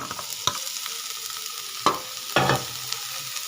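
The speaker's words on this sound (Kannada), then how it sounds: "ಈರುಳ್ಳಿ ಬೆಂದಿದೆ ಇವಾಗ ಇದಕ್ಕೆ ಬೇಯಿಸಿದ್ದ ಕಾಳು ಹಾಕೊಳ್ಳೋಣ" Boiled beans tipped into onions frying in a pan for a bean palya, giving a few sharp clattering drops and stirring scrapes over a soft, steady sizzle, with no talking.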